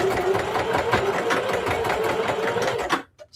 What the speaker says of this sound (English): So I'm just going to back stitch a couple of times.